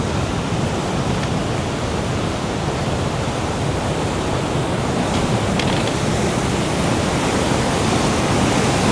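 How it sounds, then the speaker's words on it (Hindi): Rushing river water where the Madhuganga and Morkhandi rivers meet in the Himalayan mountains, a dense, steady, loud roar of torrent that never lets up, close by, with no voices. "ये 2 नदियों का मिलन है भाई।"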